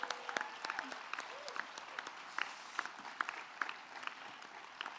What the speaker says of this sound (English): give a huge round of applause to Ukraine for the ProZorro e-procurement initiative